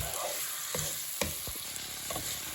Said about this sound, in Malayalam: ചിക്കൻ ഇട്ട് കൊടുത്ത് നന്നായിട്ടൊന്ന് ഇളക്കി മസാലകളൊക്കെ ഇതിൻ്റെ അകത്തൊന്ന് പിടിക്കാൻ പാകത്തിനൊന്ന് ഇളക്കി കൊടുത്തിട്ട്